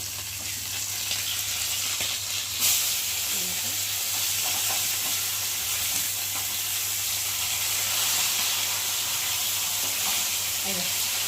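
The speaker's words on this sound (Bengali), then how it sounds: "মাছ তেলের মধ্যে দিয়েছি, এখন ভাজা" Fish pieces frying in hot oil for a spicy fish curry, with a steady broad sizzle and hiss throughout and occasional faint clinks of stirring.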